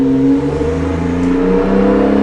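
Porsche 911 Turbo 997.2 with PDK gearbox accelerating, a loud close engine roar with strong steady tones that drop in pitch partway through as it shifts up a gear.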